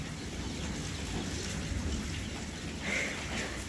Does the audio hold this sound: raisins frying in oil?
no